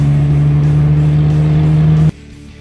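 A car in fourth gear during a driving lesson pulls with a steady, loud mid-pitched engine drone for about two seconds, then the engine note drops off abruptly.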